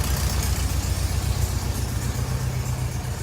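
A 1974 VW Beetle engine idles inside a garage, a steady, loud low rumble with a rapid regular throb that runs unbroken throughout, with no voices over it.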